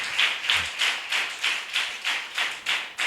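Rhythmic clapping from a church congregation, about a dozen evenly spaced claps in a steady beat, moderately near, with no talk.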